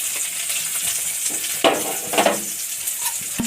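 Chopped onion hitting hot oil in a heated wok and frying, a steady close sizzle with a couple of sharper bursts as the pieces are stirred, no talking.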